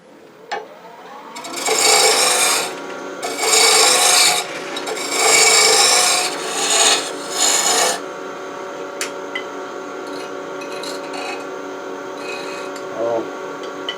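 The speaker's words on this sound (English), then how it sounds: "So go back to spindle roughing gouge and hog off this wood." A spindle roughing gouge hogs wood off an antique bedpost finial on a lathe, a loud rasping cut in several bursts over the steady hum of the spinning lathe, then the motor runs on alone.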